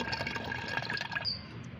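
Homemade fruit-peel fertilizer liquid is strained, a soft steady trickle and splash of liquid pouring through a strainer that stops abruptly near the end.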